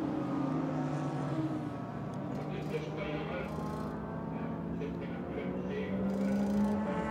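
Maserati and Ferrari race cars roaring around the Hungaroring circuit, a continuous loud engine drone with shifting pitch as they run close together, steady and sustained throughout.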